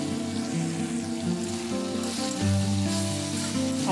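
Meat masala and garam masala sizzling in a pan as they are stirred, a loud continuous frying crackle with a steady tonal hum underneath and no talking.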